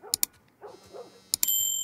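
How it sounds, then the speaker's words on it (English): A dog barks outside in The Last of Us video game, a couple of muffled distant barks in the middle, framed by sharp clicking sounds and a ringing tone at the end. "I'm a bit worried for that dog outside that's barking."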